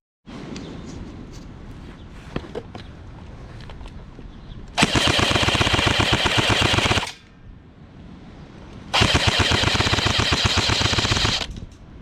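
Gunfire Harvester airsoft gun, a heavily built juggernaut setup, firing two sustained full-auto bursts of rapid buzzing shots, each roughly two seconds long, loud and close, with quieter mechanical handling before and between them.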